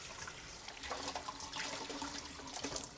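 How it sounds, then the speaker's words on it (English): Running water rinses cleaned abalone in a kitchen, a steady continuous splash and trickle, close and fairly quiet, with no talking. "And just rinse it with water again."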